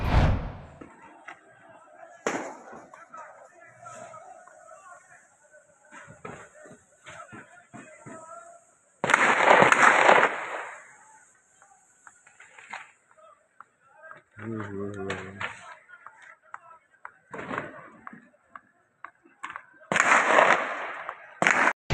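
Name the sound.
gunfire, AK-47 and sniper firing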